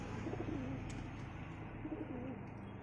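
Female pigeon cooing from a home loft, two low rolling coo phrases near the mic over a constant background hum, without speech.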